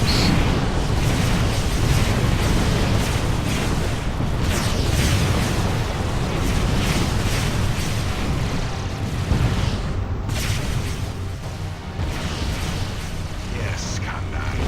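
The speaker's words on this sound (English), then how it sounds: "Those giant green blasts are plasma cannons that the Tarka are firing." Heavy plasma cannon blasts from Tarka warships in the space strategy game Sword of the Stars, a dense, continuous rumble of booming impacts and roaring energy throughout, loud and sustained without clear breaks.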